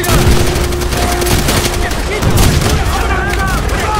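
Gunfire and a grenade explosion in a Call of Duty mission against Japanese enemies: steady rapid automatic fire with sharp bursts and a dull blast, dense and loud throughout, with faint voices mixed in.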